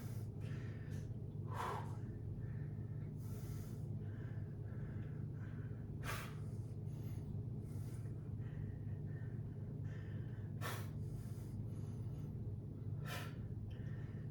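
Breaths during an upper-body workout, several sharp exhales and snort-like gasps at irregular intervals over a steady low hum, fairly faint and with no talk.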